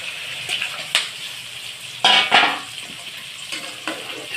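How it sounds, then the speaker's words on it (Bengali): Water poured into a pan of fried pabda fish to make curry gravy, heard as a few short splashing gushes over a soft sizzle, with light clinks of a utensil in between. "মাছ ভাজাগুলো দিয়ে এর মধ্যে আমি দিয়ে দিব ঝোলের জন্য পরিমাণ মতো জল"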